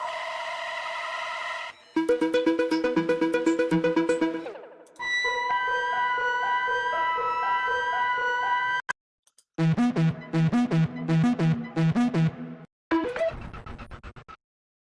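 Several different electronic synth patterns play one after another, each a fast repeating arpeggiated sequence of bright notes, with short gaps between them.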